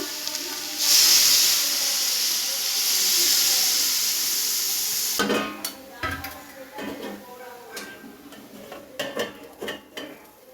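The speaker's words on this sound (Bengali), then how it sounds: "এবার আমি একটু জল ঢেলে দেবো।" Water hits a hot pan of egg and soybean curry with potato, capsicum and tomato, giving a loud steamy hiss for several seconds, then a series of clinks and stirring knocks against the pan.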